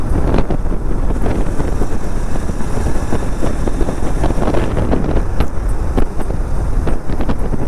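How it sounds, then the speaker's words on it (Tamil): Strong wind roars steadily in Anakulam forest on the Athirappilly to Munnar route, a loud, continuous blustery rush with gusty buffeting against the microphone and no talking. "என்ன ஒரு காத்து."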